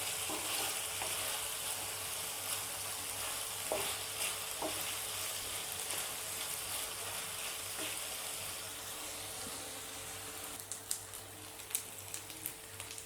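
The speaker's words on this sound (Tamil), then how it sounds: "சிக்கன் நல்லா ஃப்ரை ஆகட்டும்." Chicken pieces frying in a little oil in a pan for butter chicken masala, a steady dense sizzle with occasional crackles and stirring scrapes, close and continuous throughout with no talking.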